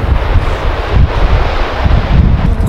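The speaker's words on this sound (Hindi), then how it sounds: "ठंडी हवा चल रही है" Cold wind gusts across a snowy mountain slope near Chitkul, buffeting the microphone with a loud, continuous low roar and hiss, no voices over it.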